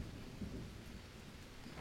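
Steady rain with rumbling thunder in the Green Hell rainforest survival game, a continuous low wash of rainfall and thunder filling the background without voices.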